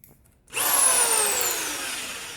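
Drill spinning up after a brief quiet start, a loud, close motor whine that holds steady with a slowly falling pitch and gradually fades slightly as it runs.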